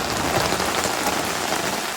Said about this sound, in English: the rain has officially rolled in.